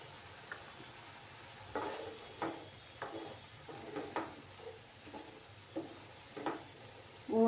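A pan of small fish masala cooks down with ginger and garlic. A soft, low sizzle runs throughout, punctuated by irregular stirring knocks and scrapes from a spoon against the pan, with a louder clatter at the end.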